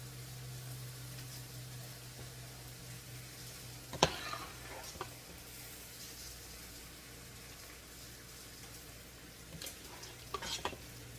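Bologna slices frying in an oiled pan for a Southern-style fried bologna casserole, a low steady sizzle under a constant hum, with a couple of sharp utensil clinks and scrapes partway through.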